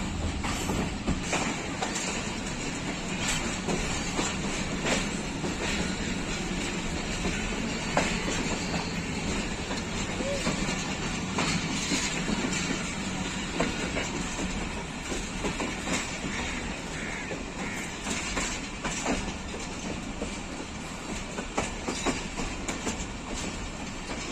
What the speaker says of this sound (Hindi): नाइन अप अल्लामा इकबाल एक्सप्रेस खानेवाल जंक्शन पर पहुंच रही है।